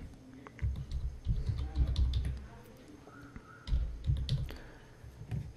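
Someone types a name on a computer keyboard while setting up a portable software conversion on a Windows computer, giving irregular bursts of close key clicks with quiet pauses in between.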